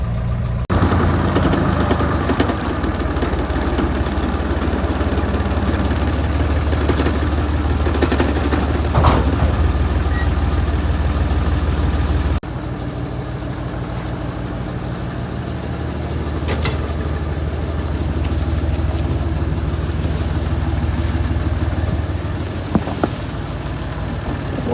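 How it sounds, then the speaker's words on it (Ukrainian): A small tractor engine runs steadily throughout, a low chugging drone with a faint shift midway and occasional clanks, no voices. "Виїжджаємо на дорогу і чіпляємо прицепа до тракторця"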